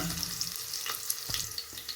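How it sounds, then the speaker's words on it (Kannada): A tempering of mustard seeds, onion and curry leaves sizzling in oil, a dense bright hiss with scattered small crackles and pops, close by and with no voices. "ಸಾಸಿವೆ ಹಾಕ್ಕೊತಾ ಇದ್ದೀನಿ, ಈರುಳ್ಳಿ ಹಾಕ್ಕೊತಾ ಇದ್ದೀನಿ, ಕರಿಬೇವಿನ ಸೊಪ್ಪು ಹಾಕ್ಕೊತಾ ಇದ್ದೀನಿ."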